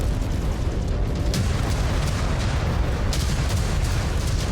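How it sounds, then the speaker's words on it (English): Ammo explosions rip through a damaged mech in the MechWarrior 5: Clans video game, a dense, loud rumbling barrage of booms and bursts that runs continuously with no clear gaps. "He's got ammo explosions going."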